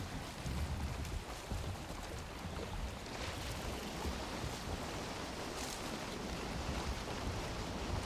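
Boat paddled across ocean waves in Valheim, with a steady broadband wash of surf and wind running continuously throughout, fairly faint and unbroken.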